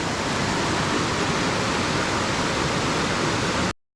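Steady, loud rushing water pours continuously into a mill, a dense broadband roar with no pauses until it cuts off abruptly.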